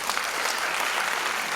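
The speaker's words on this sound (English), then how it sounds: "A big round of applause for" Applause from an audience at a formal award presentation during a regional education conference in Freetown, Sierra Leone: steady, dense clapping held at an even level for the whole moment, with no break.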